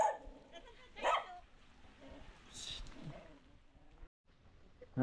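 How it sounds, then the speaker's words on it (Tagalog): A dog barks a few times at night outside a house in the Philippines, with sharp yelps and whimpers mixed with people talking nearby, the barks fairly close and intermittent. "May aso."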